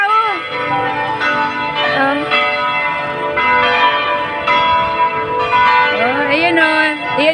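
Several church bells clang together in a dense, continuous peal, overlapping strokes ringing loud and close for the whole stretch, with a crowd murmuring faintly beneath.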